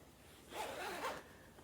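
A zipper pulled along a fabric project bag with a clear vinyl front, heard as one smooth rasping pull lasting about half a second. It is fairly quiet and close, with no talking.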